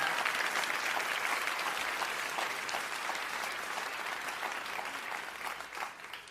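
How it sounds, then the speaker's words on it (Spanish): A church congregation claps together in a sustained, fairly soft round of applause that carries evenly, then thins slightly toward the end. "si vas a aplaudirlo con más ganas el día de hoy"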